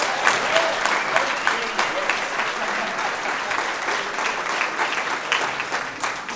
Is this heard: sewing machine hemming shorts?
no